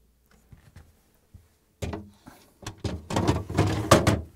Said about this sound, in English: now I'm going to place the drawers in